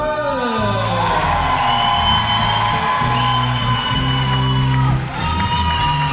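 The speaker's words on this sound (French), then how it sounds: "on vous demande un autre tonnerre d'applaudissements" Loud crowd cheering, whooping and shouting for dancers at a live show, a continuous roar with children's voices and yells throughout, dipping briefly near the end before swelling again.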